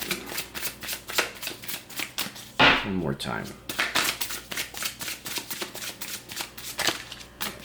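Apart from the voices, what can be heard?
shuffling a deck of cards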